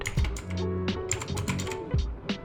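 Keys clatter on a computer keyboard while a word is typed into a text box, a close, quick burst of irregular clicks and taps with short pauses and no voices.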